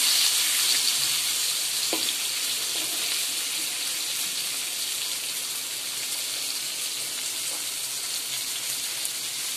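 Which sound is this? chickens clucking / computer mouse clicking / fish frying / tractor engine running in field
fish frying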